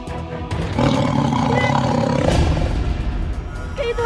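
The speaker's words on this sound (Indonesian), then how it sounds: "Ada suara harimau" A tiger roars with a deep, sustained rumble that swells and holds for several seconds, loud and close, with a brief voice near the end.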